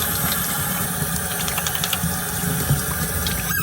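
Running warm tap water flows steadily with a constant rushing hiss and low hum, with faint clinks of a part being rinsed under it.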